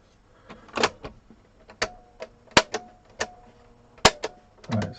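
Sony CMT EP313 cassette deck mechanism clicking and clunking as it engages the tape, with sharp close mechanical clicks and thumps spaced irregularly over a faint motor hum.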